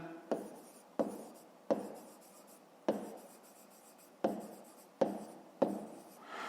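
Pen strokes on paper while working a fifth-grade math exercise, a series of about seven scratchy writing bursts, each starting with a sharp tap and trailing off, close and fairly quiet with no talking.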